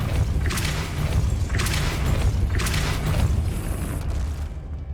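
A Depulso spell in Hogwarts Legacy fires in three repeated bursts, each a whooshing pulse with a low booming thump, loud and evenly spaced over a rumbling game background.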